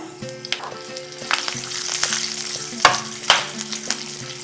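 Green chili and curry leaves hit hot oil in a tempering for a vegetable dish, crackling and spitting in sharp irregular pops over a steady close sizzle, with utensil clinks now and then.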